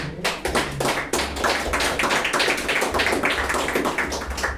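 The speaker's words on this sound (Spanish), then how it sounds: "Vas a darle un fuerte aplauso al que vive" A Spanish-speaking church congregation gives a strong round of clapping, loud and continuous with crisp overlapping hand claps and a low hum beneath, close.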